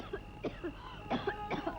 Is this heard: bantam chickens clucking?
no